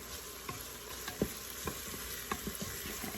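Vegetables sauté in a pan with a faint, steady sizzle, while a spoon stirs them in several soft, irregular scrapes and knocks, quiet and close with no talk.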